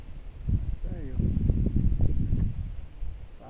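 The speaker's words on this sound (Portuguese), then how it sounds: "Tá ventando." Wind rustles through leaves outdoors at a riverside fishing spot, a steady soft hiss and flutter lasting throughout, with a person's voice briefly heard over it.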